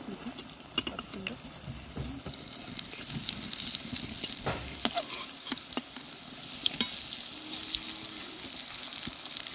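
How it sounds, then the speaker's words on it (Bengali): Egg, potato and soybean koftas fry in hot oil with a soft, uneven sizzle, broken by light spatters and scattered clicks from a spoon or spatula. "তেলটা গরম হয়ে গিয়েছে এরপর আমি কোপ্তাগুলো ভেজে নেব"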